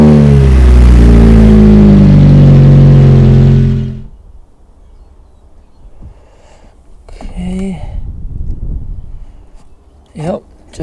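A Lotus Exige or Elise engine runs loud and close right after an oil change, holding a steady droning idle with rich harmonics before cutting off into quiet, with brief voices afterward.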